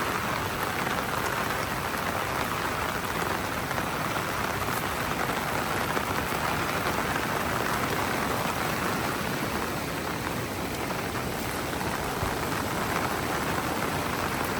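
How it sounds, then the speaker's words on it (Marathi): Heavy rain pours steadily during a Konkan flood beside a swollen river, a dense, loud, unbroken hiss of drops on surfaces with no voices. "खूप जोरदार पाऊस पडत आहे अजून"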